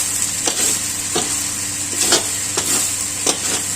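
Kangkong leaves are stirred through pork fried rice in a hot pan, steady sizzling punctuated by several spatula scrapes and taps at an uneven rhythm.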